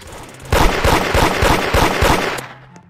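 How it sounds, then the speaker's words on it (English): Gunfire in a Roblox video game, a rapid burst of repeated shots about two seconds long, loud and close, cutting off abruptly into near silence. "I'm literally shooting at you trying to get your attention"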